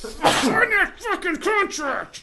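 A single sharp sneeze bursts out near the start of a casual podcast chat, with someone talking loudly right after it and continuing over the rest.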